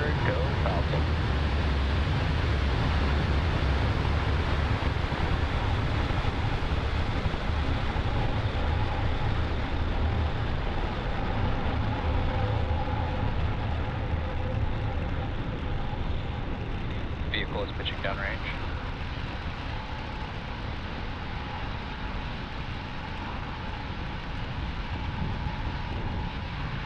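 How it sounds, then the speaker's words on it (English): Falcon 9 rocket engines roar at liftoff, a loud, steady broadband rumble with heavy low-end that holds for nearly half a minute, thinning slightly toward the end, with a faint commentary voice beneath. "Engines full power and ignition. Lift off the Falcon 9."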